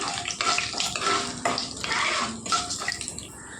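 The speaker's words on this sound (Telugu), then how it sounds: "ఒక 2 ఎండు మిరపకాయలండి. ఇది కొద్దిగా వేగాలండి." Two dry red chillies and split black gram fry in hot oil, crackling and spitting in uneven bursts that swell and fade close by, with no speech.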